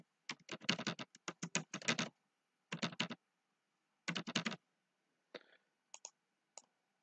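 Rapid bursts of typing on a computer keyboard while entering values into a 3D pie chart in PowerPoint, with clustered keystrokes, short pauses, then a few isolated taps near the end; close and clear, with no talk.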